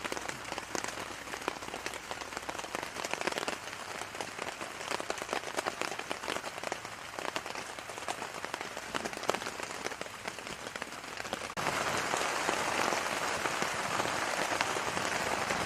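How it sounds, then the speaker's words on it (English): Steady rain drumming on a tent roof at a state park campground, a dense, continuous patter of countless drops heard close overhead, growing slightly louder and brighter toward the end, with no voices. "the ever familiar rain on the tent roof."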